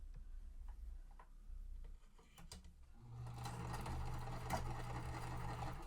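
A sewing machine stitches two quilt fabric pieces at once for an under-the-sea mystery quilt. After a few seconds of quieter handling, the motor runs in a steady, close, continuous whir with a rapid needle clatter.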